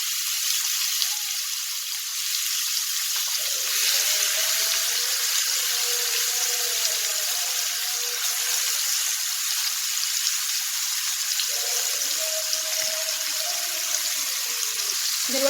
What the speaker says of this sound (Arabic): هنزل انا كده بقى بالبط كده، اخلي الجلدة هي اللي لازقة هي اللي على الجلد في الزيت يعني